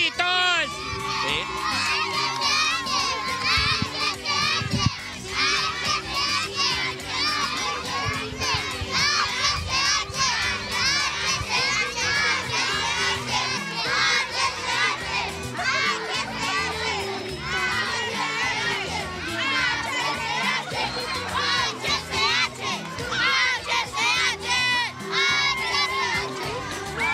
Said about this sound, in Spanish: ¡Vamos a ver un grito, niños!